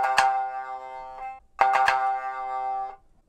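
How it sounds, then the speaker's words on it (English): Tsugaru shamisen played with triple-strike downstrokes: two clusters of sharp plucked attacks in quick succession, each a burst of three strikes ringing out briefly, separated by a short pause, close and clear with no talking. "a triple strike might sound something like this"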